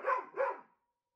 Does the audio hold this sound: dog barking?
yes